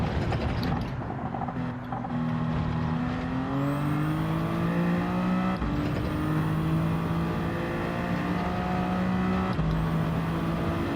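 Race car engine in Gran Turismo 7, a steady sustained drone with rising pitch sweeps through gear changes, heard close and continuous without talk.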